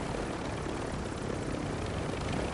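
Helicopter in a video game, a loud, continuous rotor and engine roar filling the short stretch with no talking.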